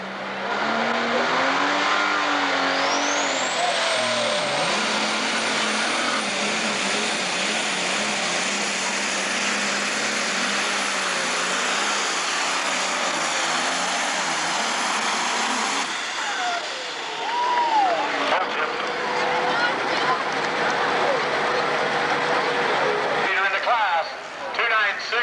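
A loud, roaring super stock pulling tractor engine strains steadily at high revs at a 2002 tractor pull in Georgetown, Ohio, a whine rising early and holding, then cutting out and dropping away near the end.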